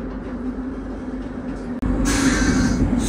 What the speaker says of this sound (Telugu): విజయవాడ జంక్షన్ నుంచి మన ట్రైన్ అయితే బయలుదేరిపోయింది